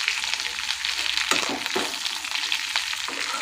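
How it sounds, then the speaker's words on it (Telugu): Okra frying in oil crackles steadily up close while a spoon turns it from bottom to top, its scrapes and clacks breaking through the continuous sizzle a few times. "మిక్స్ చేసుకోవాలండి మొత్తం కింది నుంచి పైకి"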